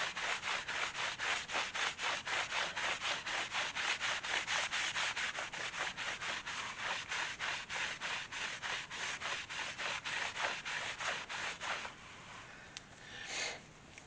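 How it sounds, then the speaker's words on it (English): Dyed leather guitar strap with a Halloween theme being rubbed and buffed by hand with polish, a steady rhythmic scrubbing of quick back-and-forth strokes, close and continuous for about twelve seconds before it stops. "as I kind of rub this, polish it, buff it, whatever you want to call it, buffing I guess would probably be the best term to use"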